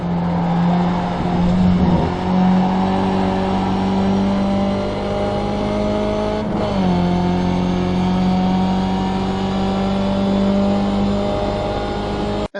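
A race car laps the Brands Hatch circuit, its engine a loud, steady, close drone that dips briefly midway as the throttle lifts, then pulls hard again with no voices over it.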